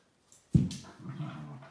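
Dogs indoors whimper and make a short vocal noise, one brief faint yelp followed by a louder whining sound up close, with no talking.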